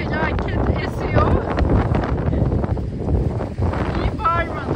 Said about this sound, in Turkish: Rüzgar felaket esiyor.